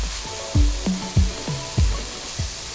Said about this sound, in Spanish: agregamos un chorro de aceite y agregamos una cebolla picada en cubos pequeños. Sofreímos durante unos 5 minutos